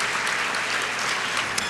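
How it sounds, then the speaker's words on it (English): A large audience at a book awards ceremony applauds steadily, a dense wash of clapping from many hands, loud and continuous throughout. "Well, you applauded before, but what the heck."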